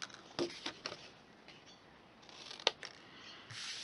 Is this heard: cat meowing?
no